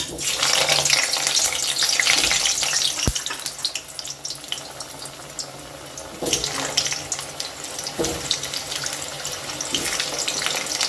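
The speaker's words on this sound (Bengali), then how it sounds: "তেল গরম হয়ে গেছে তেলের মধ্যে আমি আলুগুলো দিয়ে দিচ্ছি" Potatoes sliding into hot mustard oil for a mutton curry, giving a steady broad hiss of frying with a few clatters and knocks from the pan, close and fairly loud.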